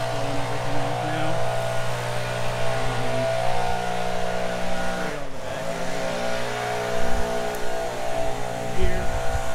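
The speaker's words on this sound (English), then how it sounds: "He's blowing everything off now." A leaf blower blows grass clippings off a mowed lawn, its engine holding a steady, fairly loud drone throughout, with a voice talking over it.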